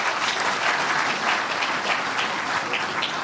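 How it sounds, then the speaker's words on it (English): A large audience gives another round of applause at a public forum on money in politics, dense and loud continuous clapping filling the space without pause. "Give him another round of applause."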